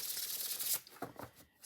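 Tarot cards from The Ink Blot Oracle, an oversized oracle-style deck, being shuffled by hand, a quick papery riffle and flutter of card edges that fades to near silence and then picks up again, close and fairly quiet.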